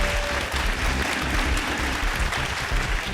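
A festival cinema audience applauds steadily, a dense wash of clapping hands from a large crowd, loud and continuous throughout.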